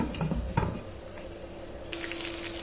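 Shrimp and chopped vegetables frying in a pan give a steady soft sizzle, with a few clattering stirs near the start and a brighter hiss rising toward the end.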